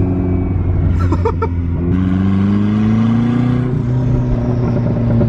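Loud, close rumble of a turbocharged Mazda Miata engine on a test drive, revving up through a gear change with steady rising pitch and a brief burst of mechanical clatter early on.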